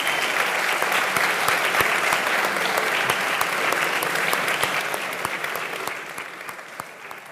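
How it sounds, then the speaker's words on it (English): Loud, sustained applause from a crowd at a videogames summit in Tenerife, dense clapping holding steady for several seconds before thinning slightly toward the end, with no voices over it. "Please, please give a big applause to Iperdino"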